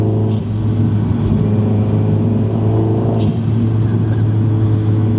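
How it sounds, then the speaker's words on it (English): A turbocharged Mazdaspeed 3 engine with an aftermarket intake accelerates in a loud, steady drone that swells slightly partway through, with turbo whoosh and no talking. "paired with the intake, like, just the turbo noise is just amazing"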